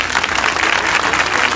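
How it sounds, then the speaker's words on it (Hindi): Dense, loud applause from a congregation at a church gathering, many hands clapping at once in a continuous wash of sound throughout the short stretch. "मैं जोरदार तालियां चाहता हूँ"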